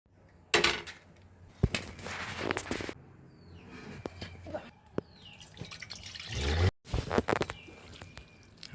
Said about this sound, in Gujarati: પાપડીને ધોઈ કાઢીએ।